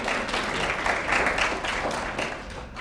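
An audience at an alumni association awards event breaks into steady, dense applause, many hands clapping together throughout, fairly close and full.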